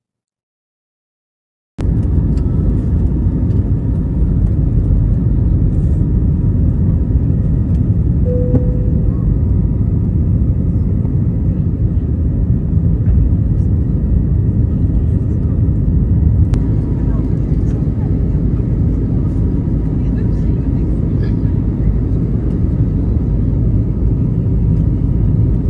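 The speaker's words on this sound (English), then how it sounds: "The flight from Copenhagen to Nuuk is about 5 hours." Steady, loud low engine drone fills an airliner cabin in flight from Copenhagen to Nuuk, Greenland, a broad unbroken rumble that begins abruptly after a moment of silence and holds level throughout.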